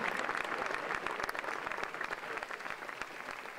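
An audience at a Slovácko verbuňk folk dance competition applauds with dense, steady clapping that fades slightly toward the end, and a voice is faintly heard underneath.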